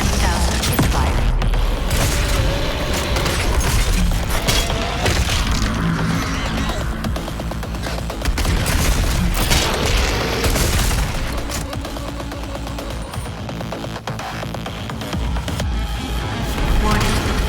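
Heavy, continuous barrage of booming, crackling weapon fire from the BFG 10,000 in Doom, loud and dense throughout with rumbling low end and layered mechanical clatter, no clear breaks.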